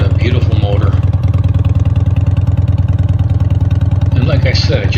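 Harley EVO motorcycle engine idling while warming up, a loud, close, steady low rumble with an even rhythmic throb, with a voice talking over it near the start and end.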